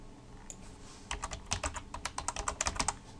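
Computer keyboard keys clatter as someone types code, a dense, quick, uneven run of close clicks that grows busier and louder after the first second, with no talking.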